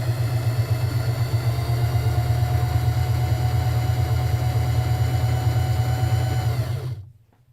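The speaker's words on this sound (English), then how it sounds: "And I'm going to sew down that one." A sewing machine runs continuously while stitching a quilt patch block, a close, steady whirring hum that stops abruptly just before the end.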